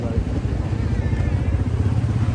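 A motorcycle engine runs in a steady low rumble, close and loud throughout, during a trip toward Komuravelli. Voices can be heard faintly over the engine.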